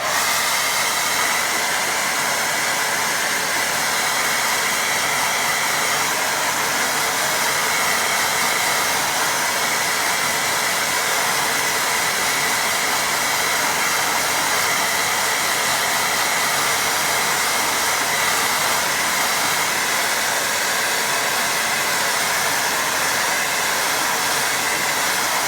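A hair dryer blows steadily and loudly over a watercolour painting, a constant airy whir that never changes for the whole stretch.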